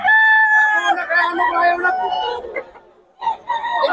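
A rooster crows loudly and close by at a Bocaue market, one long drawn-out call followed by a brief pause and a second crow starting, with market voices in the background.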